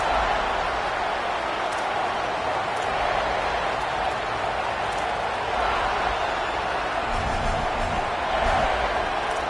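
A stadium crowd roars and cheers steadily at a Philadelphia Eagles football game at the start of the season, a dense, continuous wash of voices filling the whole stretch with slight swells near the end.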